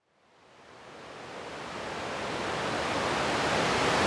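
A waterfall in Taiwan roars as a steady broadband rush of falling water, swelling from quiet to loud as it fades in, with no voices.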